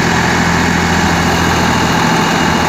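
A Massey Ferguson 9500 tractor powers a wheat thresher, its engine running loud, close and steady in an unbroken drone with a low throb and a constant mechanical whine, with no speech.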